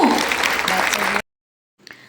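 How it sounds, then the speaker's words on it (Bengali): Audience applause at a dance school's annual show, a loud crowd clapping for just over a second that cuts off abruptly, then brief faint sounds after a silence. "সকলে একসাথে জোরে করতালি হয়ে যাক ওদের জন্য"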